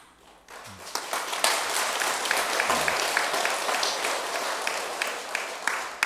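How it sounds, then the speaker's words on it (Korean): Audience clapping at a Buddhist dharma talk by a monk, starting after a brief quiet moment and building into steady, close applause that continues to the end. "공연히 박수 치지 마시오"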